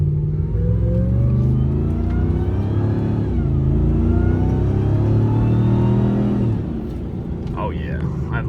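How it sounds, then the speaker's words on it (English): Ram TRX with a Hellcat supercharger accelerating hard up a hill, loud engine roar with a rising blower whine climbing in pitch, then easing off near the end; speech is present. "see if you guys can hear the blower sounds"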